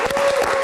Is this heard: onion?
no